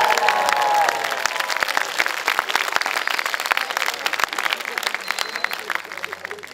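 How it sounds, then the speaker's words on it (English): A crowd of 230 young people at a space classroom live call cheering and clapping, loud at first, then settling into a dense, ragged patter of applause that carries on steadily. "So all the 230 young professionals that want to become astronauts now, give us a cheer"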